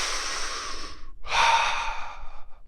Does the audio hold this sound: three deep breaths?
yes